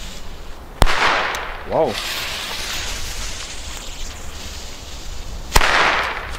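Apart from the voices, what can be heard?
WECO Atomic Pack firecrackers exploding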